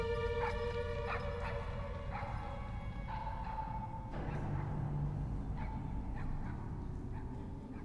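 A dog barks and whimpers faintly amid dense background noise and a musical bed, with a few short yips scattered through the passage and no speech over it.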